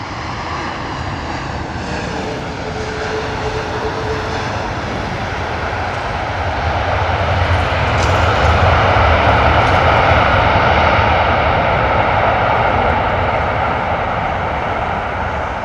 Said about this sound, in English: Beautiful arrival there from the American Airlines 777.